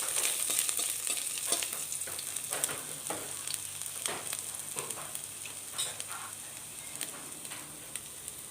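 Chopped ginger sizzles in hot oil with cinnamon and cloves for a pumpkin moli, a steady close fry hiss peppered with sharp crackles and pops throughout, with no talking.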